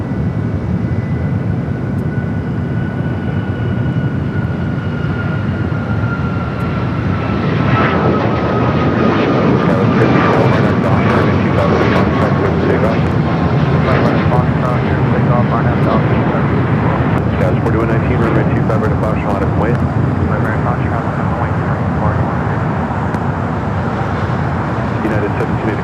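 An airliner lands on runway 25 left at LAX, its engine roar loud and sustained throughout, swelling midway against steady airport and traffic noise.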